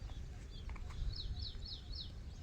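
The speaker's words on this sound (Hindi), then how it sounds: "चिड़ियों की आवाज़ सुने" Faint birds chirping in short repeated high tweets, a few calls in quick succession over a low outdoor rumble.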